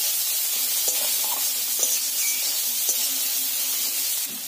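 Chopped onions frying in oil in a pan, a close steady sizzle with light scraping taps as they are stirred, no talk.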